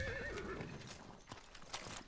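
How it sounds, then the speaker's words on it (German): A horse in the video game Far Cry 6 gives a close, clear whinny right after being called, followed by a few soft hoof clip-clops and rustling, with no talking. "dann rufen wir mal hier ein Pferd"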